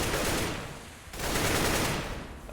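Sustained rapid gunfire in a first-person shooter video game match, a dense, loud rattle that dips briefly near the middle before resuming at full strength.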